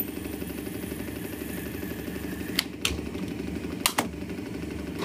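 Turret lathe with a Coventry die head cutting threads on pins, a steady mechanical hum and churning whir running throughout, broken by two pairs of sharp clicks near the end.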